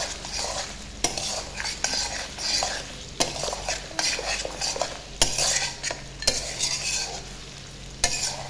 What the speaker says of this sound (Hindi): लहसुन अदरक के साथ इसको हमने फ्राई कर लेना है गोश्त को अच्छे तरीके से।